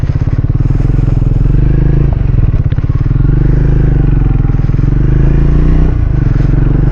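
A single-cylinder Triumph Speed 400 motorcycle thumps steadily along at a constant engine pitch, loud and close, with a faint rattle from the machine.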